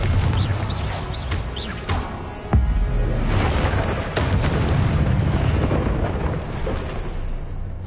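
A Confringo spell explosion in the Hogwarts Legacy game: a sharp blast near three seconds followed by booming, crackling debris and rumble, with smaller bursts before and after, loud and close.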